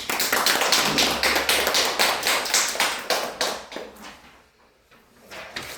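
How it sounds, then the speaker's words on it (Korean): A church congregation applauding their pastor, a run of sharp, evenly spaced claps that fades briefly and then picks up again. "우리 박광희 목사님 위해서 크게 박수 한번"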